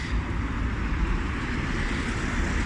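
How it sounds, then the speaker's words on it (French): Steady street traffic rumbles on throughout, a dense low roar of passing cars and trucks with a faint hiss of tyres and no speech. "vous m'excuserez s'il y a du bruit à cause du trafic"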